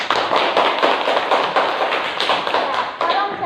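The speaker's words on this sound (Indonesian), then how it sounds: "tepuk tangan untuk Alisa" Classroom applause for a student, a burst of many hands clapping fairly close and continuous for several seconds before tapering off.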